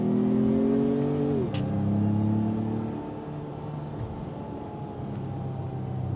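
A Porsche pickup truck's engine hums steadily from inside the cab, its pitch dropping sharply as it shifts gear, then settling into a lower, even drone as it holds the gear.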